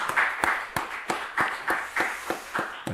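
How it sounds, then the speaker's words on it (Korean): Church members in a Korean congregation clap together for the women of the church, a series of roughly rhythmic, sharp claps in evenly spaced bursts, close and fairly loud, with a faint voice in the background. "우리 한 박수 한번 하겠습니다"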